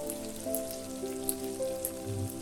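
Pork pieces deep-fry in hot oil in a wok, giving a steady, dense crackle and sizzle over a low hum at moderate loudness with no voices.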